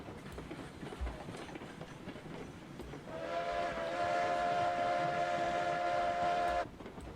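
4-8-0 steam locomotive in the RailRoads Online game, rumbling along before a loud, steady steam whistle sounds for about three seconds and then cuts off.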